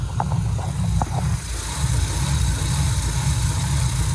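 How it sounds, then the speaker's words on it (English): A car engine idles steadily with a deep, even rumble while the power steering pump adds a constant whine, close and continuous, with a few faint taps early on. "I definitely hear that pump though."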